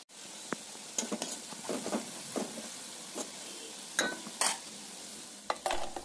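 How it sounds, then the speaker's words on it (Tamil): Masala with garam masala is stirred in a pan as it fries for a mushroom gravy. Intermittent scraping and clinking strokes of the spoon sit over a soft, quiet sizzle, close by, with short pauses between stirs. "பச்சை வாசனை போகிற வரைக்கும் மிக்ஸ் பண்ணிக்கோங்க"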